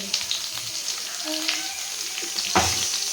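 Garlic, onion, green chillies, curry leaves and coriander leaves fry in hot oil for a lentil sambar, a close, busy sizzle broken by stirring clatter and a sharp scrape near the end.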